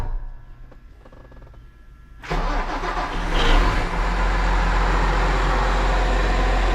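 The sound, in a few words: Case tractor engine starting after exhaust manifold gasket replacement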